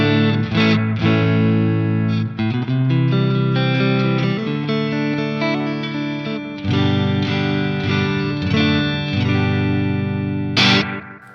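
A Fender Vintera 60s Stratocaster runs straight into a Marshall SV20H amp with no pedal engaged, playing a loud, slightly gritty sequence of chords and single notes, with a sharp strum near the end.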